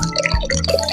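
Water drips and splashes steadily for a moment, close by, with a busy wet trickle and no voices.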